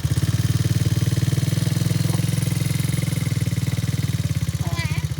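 A motorcycle idles and then creeps off slowly as a child rides it, its low engine putter pulsing steadily and close throughout while an adult's voice talks over it.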